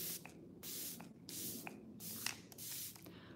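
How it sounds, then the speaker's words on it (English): A setting spray for makeup mists out in about five short, soft hissing bursts, each a quick puff of fine spray, quiet and close with brief pauses between. "I'm gonna test the spray really quick"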